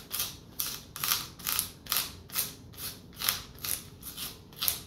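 A handheld pencil sharpener turns in a steady rhythm of about ten evenly spaced grinding scrapes over five seconds, close and fairly quiet.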